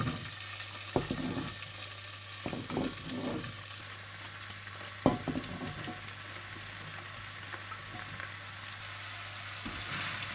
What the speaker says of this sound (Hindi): मक्खन गर्म होने के बाद आप इसमें जुकीनी डाल दें।